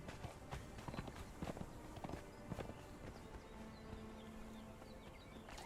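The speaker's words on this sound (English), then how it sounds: "I didn't want you to follow me, horse." Horse hooves clip-clop steadily behind the player in the video game Conan Exiles, close and faint, an uneven walking rhythm over outdoor ambience with a few bird calls.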